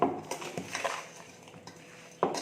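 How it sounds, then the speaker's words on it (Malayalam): Lemon pieces for homemade pickle are mixed with salt in a bowl, producing close clinks and scrapes of spoon against dish in short irregular bursts, the last a louder clatter. "എന്നിട്ട് അത് നല്ലോണം ഇളക്കി യോജിപ്പിക്കുക."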